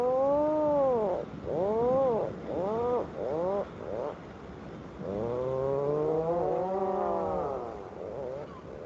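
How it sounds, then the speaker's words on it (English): A puffin's raucous, rising-and-falling calls repeat in quick bursts, then stretch into a longer groaning, laughing cry, loud and close with no other sounds. "the sound of a puffin always makes me laugh"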